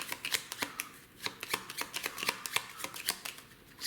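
Deck of cards for the Flamme Rouge board game shuffled by hand, rapid crisp riffles and snaps in a quick irregular rhythm close to the microphone, no talking.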